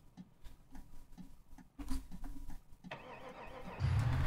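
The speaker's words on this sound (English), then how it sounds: "There we go, it's actually started" A school bus engine in the game BeamNG cranks with rhythmic ticking starter pulses, then catches and rises into a loud, steady rumbling idle close by.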